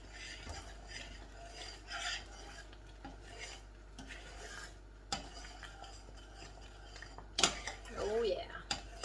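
Butter is stirred into thick chocolate pie filling in a pot, giving quiet scraping and rubbing strokes with occasional clinks of the utensil against the pot, faint and intermittent, with some talk over it.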